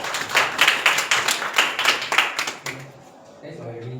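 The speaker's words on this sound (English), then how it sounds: "Let's give him a round of applause" Audience applause for a speaker at a resilience talk: a short burst of clapping from many hands that fades out after about two and a half seconds, followed by a quieter room.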